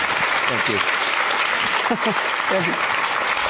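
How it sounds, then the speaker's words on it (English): An audience applauds steadily at a book talk, a dense wash of clapping throughout, while someone speaks briefly over it. "Can I have a big round of applause, please?"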